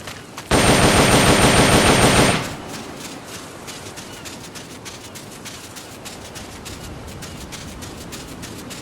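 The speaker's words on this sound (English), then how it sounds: "The M16 is a standard assault rifle, capable of rapid fire." Rapid burst of M16 assault rifle fire from the video game Metal Gear Solid Peace Walker, a loud, dense rattle lasting about two seconds, followed by quieter game ambience and faint clicks.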